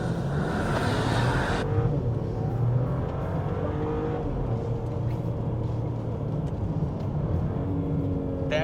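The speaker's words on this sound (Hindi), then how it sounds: "पर इसको लॉन्च करके देखते हैं।" A 2025 Mercedes-Benz E 450 launches and accelerates hard, its engine and exhaust a loud, steady roar that climbs in pitch through the run, with no talking over it.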